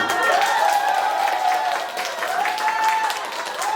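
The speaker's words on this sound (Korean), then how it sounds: "박수가 약한 것 같아서 한 번 더 받아야겠습니다" Louder, fuller applause from a community forum audience in Songpa-gu, Seoul, a thick wash of clapping that dips briefly midway and then swells again, with a few vocal cheers inside it.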